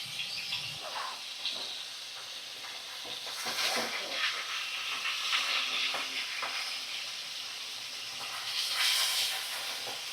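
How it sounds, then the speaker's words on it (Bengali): Large, very soft Bhola fish pieces frying in oil in a pan and being turned one by one, a steady close sizzle that swells into louder hissing bursts as pieces flip, with no talking. "চলো মাছগুলো ভালো করে ভাজা করে নিই, এপাশ ওপাশ সুন্দর করে ভাজা করে নিই"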